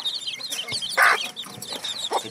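Chickens on a goat farm cluck in a steady chatter of short, fairly close calls, with one louder squawk standing out partway through.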